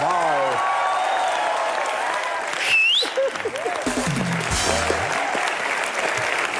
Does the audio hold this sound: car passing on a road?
no